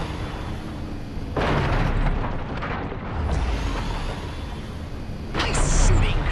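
Laser blasts and explosions from the Destroy All Humans! video game make rumbling booms and bursts that swell and fade over a continuous noisy game soundtrack.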